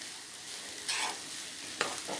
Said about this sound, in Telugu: దీన్ని మనం ఒక 5 to 6 minutes బాగా ఇలా వేయించుకుంటూ కలుపుకుంటూ ఉంటే బాగా వేగుతుందన్నమాట